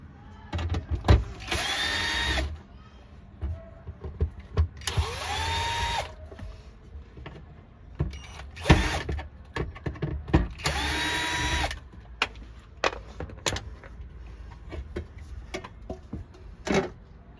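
A power tool backs out three screws from the fuel pump access cover of a Mitsubishi Mirage, with repeated whirring bursts of a few seconds each, separated by clicks and handling noises close up.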